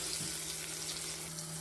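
Onion and tomato fry in hot oil with cumin and bay leaf for chicken curry, producing a loud, continuous, close-up sizzling hiss with no pauses.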